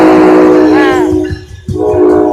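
A train horn sounds a loud sustained blast at a station in Raritan, close by and cut off abruptly, then resumes over rumbling rail noise.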